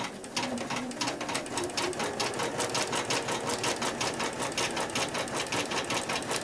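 Sewing machine stitching quilting through fabric, a fast steady needle rhythm running continuously and close, with no talk over it.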